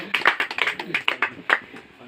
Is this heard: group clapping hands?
yes